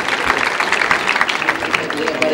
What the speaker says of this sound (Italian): Giulio Castello, al quale farei un applauso